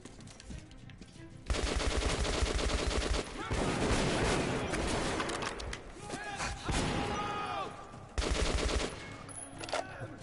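Heavy automatic gunfire in the shooter game Metro Last Light Redux, long loud bursts broken by brief lulls, with clattering impacts and metallic debris scattered through the firefight.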